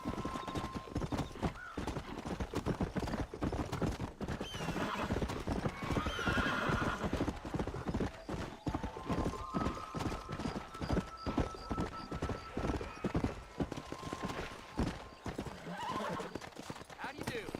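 A horse in the Red Dead Redemption video game trots with steady clip-clop hooves and lets out a neigh, with someone talking over the sound.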